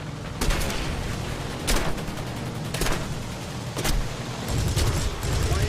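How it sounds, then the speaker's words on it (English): Rapid bursts of aircraft cannon fire from a fighter plane in War Thunder, loud and close, several fast volleys in repeating strings over a steady engine drone. "You can actually fire quite a few shots before you need to reload the cannons."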